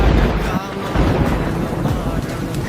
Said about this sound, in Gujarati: મારા ઘરે વરસાદની વાવાઝોડું બહુ છે